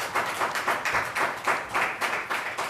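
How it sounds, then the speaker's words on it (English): Applause at a city council meeting: a short burst of clapping from a small group in a room, evenly rhythmic and moderately loud, with no talking over it. "All right, thanks for the applause."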